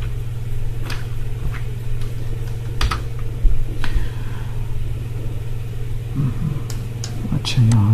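Keys tapped on a computer keyboard while typing a search query, scattered clicks over a loud, constant low engine-like hum, with soft speech nearby.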